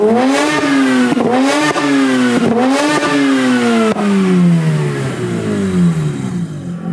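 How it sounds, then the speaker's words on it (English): A Mazda RX-8 rotary engine with newly installed exhaust headers revs repeatedly, several sharp rising blips close to the exhaust, then a longer rev that winds down and settles. "With the car back on the ground, it's time to have a listen at the exhaust."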